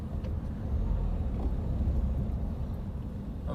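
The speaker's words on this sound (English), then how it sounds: "Stuck in traffic here." Road traffic while sitting in a stuck car, a continuous low engine and road rumble that stays steady and fairly loud, with no talk.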